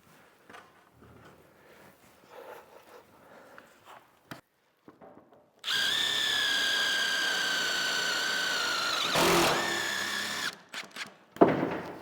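A power drill drives a screw into a large wooden barn door, a loud whining buzz of about five seconds after scattered quiet handling clatter, ending with a short burst and a few knocks.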